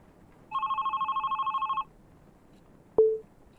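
A telephone ringing in a video game, a single burst of rapid electronic trilling that runs for over a second, then a short sharp click and blip after a pause.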